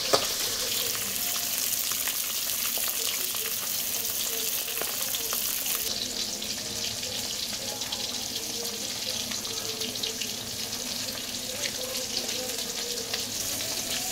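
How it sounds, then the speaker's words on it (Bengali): Rupchanda fish fries lightly in hot oil, a dense, constant sizzle that stays loud and close without a break, with no voices over it. "হালকা ভাজতে হবে, বেশি ভাজার দরকার নেই"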